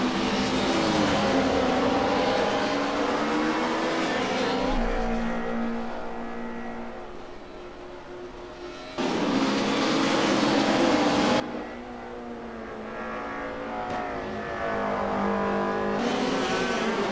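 Race cars in the Assetto Corsa sim racing game at the Vallelunga circuit scream along the track, engines rising and falling through gear changes, with louder bursts as cars pass close and a whine of tires in between.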